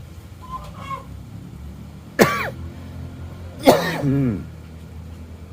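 Two sharp, hoarse coughs spaced a second apart, close by, with a faint murmur beforehand and quiet background otherwise.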